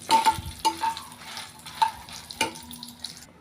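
Lentils roasting in a pan after dried chillies, a light crackle with several sharp scraping stirs of a spoon against the pan, close and fairly quiet, no talking.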